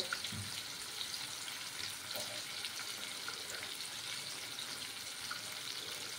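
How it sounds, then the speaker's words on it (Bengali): Fish pieces fry in oil in a pan for a coconut milk fish curry, giving a soft, steady, unbroken sizzle with no talking. "মাছের একটা সাইড যখন ভাজা হয়ে যাবে তখন আমি অন্য সাইডটা উল্টে দেব।"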